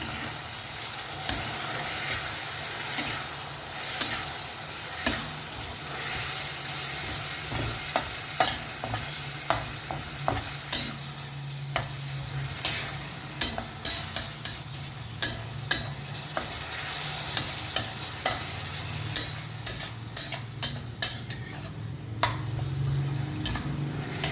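Chopped tomato goes into a frying chicken curry, with a soft continuous sizzle and steam hiss under frequent sharp spoon taps and scrapes as it is stirred, growing busier toward the end.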